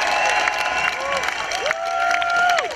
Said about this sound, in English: Give us a round of applause for yourselves